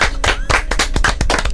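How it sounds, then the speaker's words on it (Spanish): Audience in a Spanish-language talk show studio bursting into applause, loud close bursts of clapping with sharp, irregular hits. "Aplausos igual."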